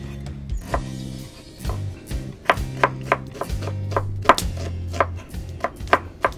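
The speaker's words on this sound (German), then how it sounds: "Da muss man wieder so eine Zwiebel hacken" An onion being chopped with a knife on a board in a home kitchen, a run of sharp, irregular knife taps close up, alone over a low background hum with no talking.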